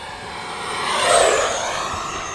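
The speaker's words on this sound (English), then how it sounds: "So, okay, there we go, full throttle." A model RC jet airplane makes a full-throttle pass, its whooshing turbine whine swelling as it nears, peaking mid-clip and easing off as it goes by, heard alone without talk.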